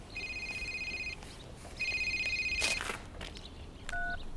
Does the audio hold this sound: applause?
no